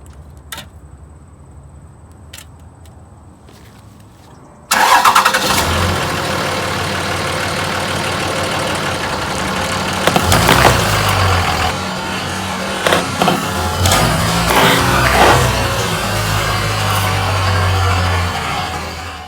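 A Cummins diesel pickup truck idles quietly, then roars up loudly and rumbles steadily nearby, with a few sharp crunching pops partway through as it drives over Mountain Dew cans, crushing them.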